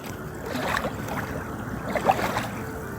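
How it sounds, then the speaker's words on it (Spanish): Elbe river in Germany flowing steadily, a soft continuous wash of moving water heard from nearby, with a few faint splashes and light wind over the surface and no voices. "Ahora escuchamos de fondo el sonido del río Elba"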